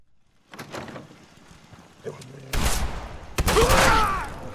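Video game gunfire in bursts of sharp shots, close and loud, starting faintly and becoming heavy near the end, with excited voices shouting over it.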